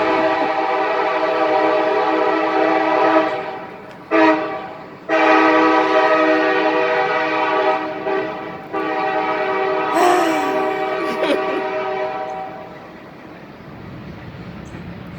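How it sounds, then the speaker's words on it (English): A passing train rumbles steadily close by while its horn sounds in long, loud tonal blasts with brief gaps between them. "Sorry, that's the train."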